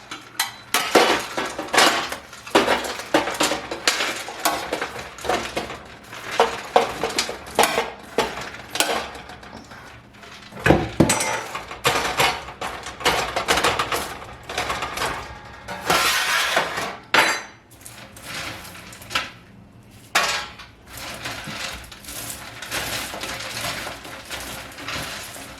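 Caramel popcorn and peanuts are scraped and tipped into two pans, with frequent metallic clatters, scrapes and clinks in uneven bursts and short pauses.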